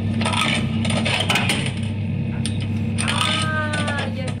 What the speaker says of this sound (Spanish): ¿Algún tipo de maquinita de monedas o algo así?